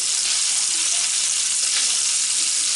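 Florida shrimp seasoned with Old Bay frying in butter and olive oil give a steady, loud, close sizzle throughout, with no voices.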